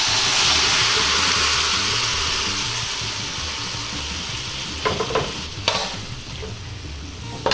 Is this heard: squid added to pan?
yes